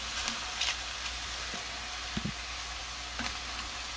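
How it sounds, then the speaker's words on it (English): Wild mushrooms, including oyster mushrooms, sizzling in butter in a pan, a steady close frying hiss broken by a few soft clicks and scrapes as they are stirred, with no voices. "Now as they cook, make sure you just keep on stirring them"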